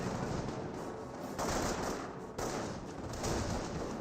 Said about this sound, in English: Rifle grenades trying to hit that sniper.